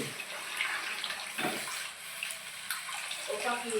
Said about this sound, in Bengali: আমি দিচ্ছি ঝোল